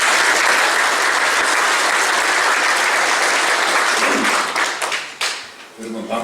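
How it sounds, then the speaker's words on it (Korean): Audience at a National Assembly forum in a small conference room gives loud, sustained applause that fades toward the end, leaving a few scattered claps. "뜨거운 박수로 맞아 주시기 바랍니다."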